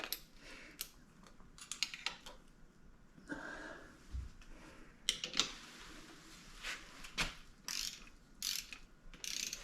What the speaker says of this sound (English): this gets tightened down to 16 foot-pounds